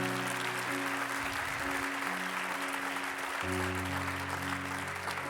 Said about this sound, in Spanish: Si le va a dar ese aplauso al Señor, déselo mejor